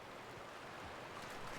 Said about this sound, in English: Ja, der Wasserfall ist nice.